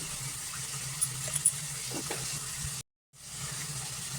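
Chital fish sizzles in hot oil in a pan for a Bengali kalia, a steady soft crackle with a few sharper pops and a brief cut to silence partway through.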